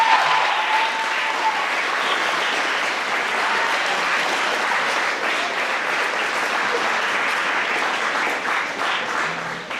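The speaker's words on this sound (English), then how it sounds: "I would like to give you a round of applause." A sustained round of audience applause closing a senior presentation, dense and even at full strength for the whole stretch, many hands clapping together without any voice over it.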